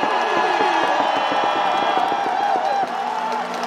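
Baseball stadium crowd at a Kia Tigers regular-season title celebration cheering and clapping, a loud, sustained roar with whoops and shouts layered over continuous applause, easing slightly near the end.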